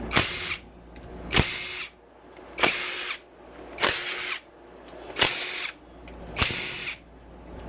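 A handheld power tool runs in six short, evenly spaced bursts while working on a 2016 Honda CRF250R dirt bike engine during a big bore and cam kit install, each whir loud and close with brief pauses between.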